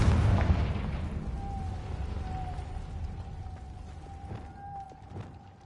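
A Confringo spell explosion in the video game Hogwarts Legacy: a heavy blast at the start fading into a long rumbling decay, with a thin sustained tone and a few faint pops trailing behind.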